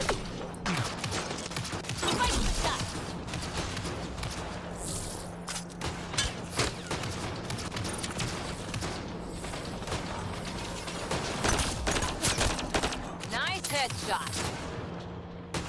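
Assault rifle fire in a sci-fi video game, with near-continuous rapid bursts and mechanical clatter over fifteen seconds, backed by a constant low hum and occasional voices.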